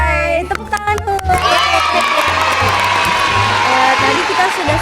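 A group of children at an online game session erupts in loud clapping and cheering, with excited shouts rising after a few scattered opening claps and continuing steadily.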